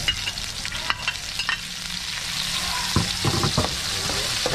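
Chopped ginger and onion frying in a pan, with close sizzling and bursts of stirring as the pieces are tossed, crackling getting denser and louder in the second half.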